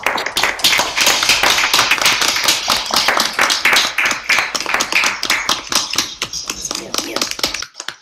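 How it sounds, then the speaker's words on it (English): Clapping from a small audience of parents and guests after a music recital, a lively patter of individual hands at close range that tails off near the end. "Let's give a big round of applause for all the performers tonight"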